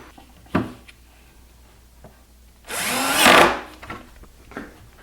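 A power driver sinks a screw into frameless kitchen cabinet wood during drawer-slide installation: one short whirring burst of about a second, between a few light knocks and taps in an otherwise quiet workshop.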